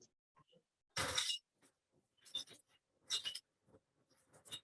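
Glass bottles and containers crashing and shattering at a recycling facility, several loud broadband bursts of breaking glass separated by quieter clinks and rattles, with no talk.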